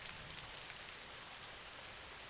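Steady rain pours down on a rainy day at a market, a dense even hiss of drops with no voices.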